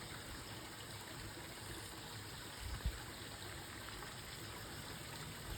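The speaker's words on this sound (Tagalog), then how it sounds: "Mga lagaslas na tubig talaga marinig mo dito sa malaking lugar na to sa Seki." A steady, faint wash of a flowing stream at a summer camp lodge in Seki, Japan, a continuous rushing murmur with a brief soft thump partway through and no voices.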